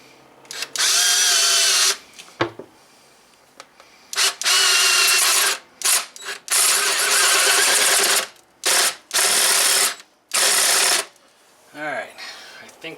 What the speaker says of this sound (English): we'll go ahead and start countersinking that in